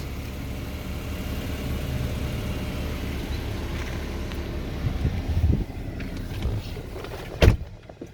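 Power windows of a 2014 Dodge Challenger SXT whirring steadily inside the car for several seconds, ending with a couple of firm thumps as the glass stops.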